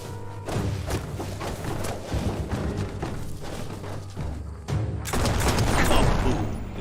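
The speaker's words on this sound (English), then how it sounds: "Smack it to get a barrel out of it, then hit it toward the gate and blast it." Video game combat at an outpost gate as an exploding barrel is blasted: a stretch of rapid thumps and gunfire-like bursts, then a heavier booming surge in the last couple of seconds, loud and dense with no voices.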